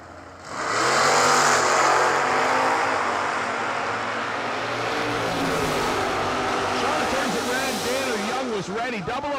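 Two drag racing cars, a 1996 Firebird with a 406 small-block Chevy and a Vega, launch hard from the line in X-Stock Eliminator, a loud sustained engine roar rising and then receding, with a track announcer talking over it.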